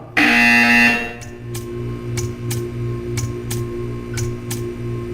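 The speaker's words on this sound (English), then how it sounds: "You will hear a buzzer." A Portal 2 test-chamber buzzer opens loudly for about a second, then a series of short, sharp ticking beeps repeats at steady intervals over a low, droning electronic hum.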